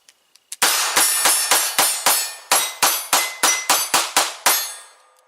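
Lionheart Regulus pistol fired at a range in a rapid string of about fourteen loud, sharp shots, each followed by a ringing metallic clang from steel targets, after a couple of faint clicks, with no talking.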